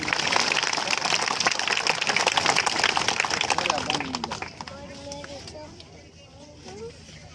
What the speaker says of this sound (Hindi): सारे बच्चे तालियां बजाएं।